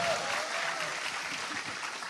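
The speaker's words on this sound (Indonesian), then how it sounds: "Tepuk tangan dulu semuanya." Crowd at a political gathering applauding, a brief, dense burst of many hands clapping at steady strength with a faint voice at the very start.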